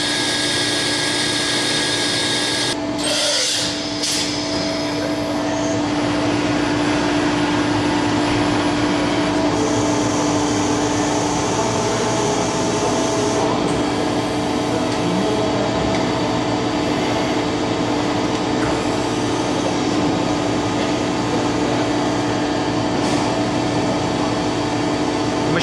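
A 2003 Okuma MCR-B II CNC vertical machining center runs its right angle head at 3,000 RPM, giving a loud, steady mechanical whine and hum that holds constant throughout, with a brief shift near the start.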